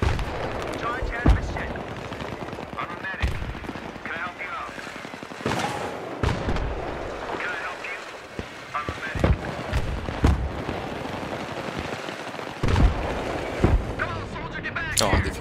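Mortar and gunfire from a Battlefield 3 match: repeated heavy booming blasts and crackling shots at irregular intervals, loud and close, under a dense continuous battle din with occasional voices.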